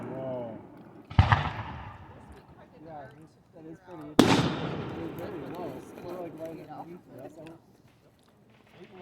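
Two loud Fourth of July firework blasts boom at Sandy Bottom Park in Honeoye, New York, each followed by a crackling tail, while people nearby talk over and between the explosions.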